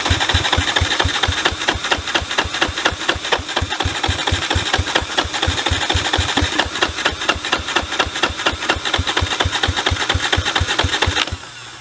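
A motorcycle engine cranks over steadily with its carburetor covered by hand, the starter giving a fast, even rhythm of loud close thumps that runs for about eleven seconds before cutting off.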